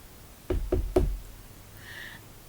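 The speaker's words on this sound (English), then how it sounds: "So sometimes when I do hear the knocking, which is quite often," Three sharp knocks on a hard surface, evenly spaced and close, demonstrating the knocking heard in a reportedly haunted setting, followed by a faint high tone and quiet room noise.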